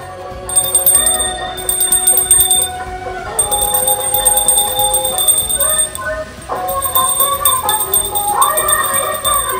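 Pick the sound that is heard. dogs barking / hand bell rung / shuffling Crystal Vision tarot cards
hand bell rung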